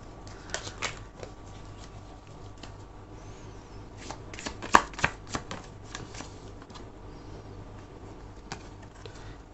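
Tarot cards riffled and shuffled by hand at close range, a series of soft papery flutters and taps with one sharper snap near the middle, no voices over them.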